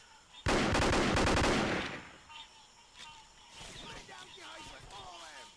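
A loud burst of rapid automatic gunfire from the video game Vietcong, then quieter scattered shots and battle noise as a voice talks.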